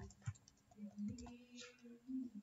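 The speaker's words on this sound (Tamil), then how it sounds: "நான் டைப் பண்ணுறேன்" Typing on a computer keyboard in Microsoft Office 2013: a few sparse, faint key clicks scattered over a quiet low hum.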